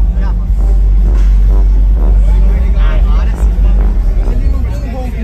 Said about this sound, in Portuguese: Vai ser um pouquinho mais o barulho, mas o ronco dele é assim.